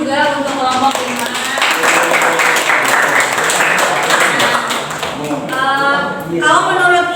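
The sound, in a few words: applause from an audience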